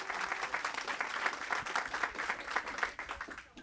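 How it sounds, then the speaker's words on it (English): An audience at a fashion show claps for a model wearing a gown, with brisk, fairly distant applause holding steady for a few seconds before starting to taper off. "Let's give her a round of applause."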